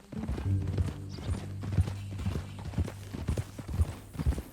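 Horse hooves clip-clop in Red Dead Redemption 2 at a steady walking rhythm, close and clear, over a low sustained musical drone.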